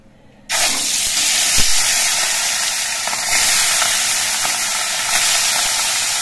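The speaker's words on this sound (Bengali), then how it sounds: "এবার মাছগুলো আমি তেলের মধ্যে দিয়ে ভেজে নেব।" Khoira fish hit hot mustard oil in a pan and erupt into a loud, sustained sizzle. The hiss starts abruptly after a moment of near quiet and stays steady and close, with a single faint tap partway through.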